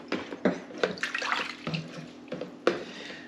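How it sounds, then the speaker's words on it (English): Wort from a beer extract kit stirred by hand during homebrewing, giving repeated liquid swishes and sloshes in a bucket, close and moderately loud in an uneven rhythm of strokes. "I'm gonna give all that a good stir to mix it all back up again."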